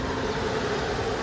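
A 2023 Suzuki Swift Dzire's 1197 cc four-cylinder petrol engine idling steadily, a smooth continuous hum with a faint rhythmic chug, close by and unbroken with no talk.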